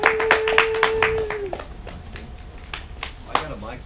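Sparse, close hand claps for a comedian at a small live show, a handful of sharp claps over a sustained tone at the start, then scattered claps that thin out into quiet room noise.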